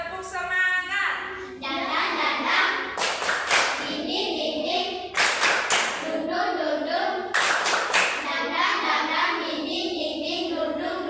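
Schoolchildren in a classroom clap a rhythmic spirit cheer in unison, several bursts of sharp, loud group claps with short pauses between and children's voices chattering underneath.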